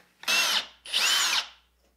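A power drill whirs in two quick close bursts, the second slightly longer, as it drives a screw into a wooden tapering jig, loud and clear with no talking.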